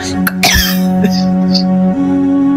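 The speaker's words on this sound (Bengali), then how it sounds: "ধুলোবালু মুখের মধ্যে লেগে অনেকটা কাশি পেয়ে গেল আমার" A person coughs harshly from dust during a windy storm, a few sharp bursts near the start, then a sustained voiced throat sound afterward.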